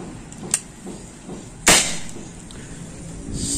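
A single slug shot from a Predator bullpup air rifle fitted with a 40 cm seamless barrel: a small click comes first, then a sharp, loud close report that trails off briefly into low room noise.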